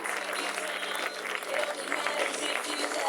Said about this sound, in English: How about a round of applause for the jumpers?